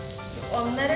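Beef sautéing in a pan with chilli and coriander powder for Kerala-style beef ularthu, a soft, close sizzle over one second that swells slightly toward the end.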